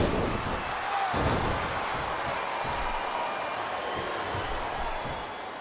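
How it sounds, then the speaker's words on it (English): Crowd noise in the WWE SmackDown vs. Raw wrestling video game, a steady roar of arena fans with rhythmic chant-like swells and occasional thumps, loud and continuous throughout. "Wow, listen to that chant, Taz."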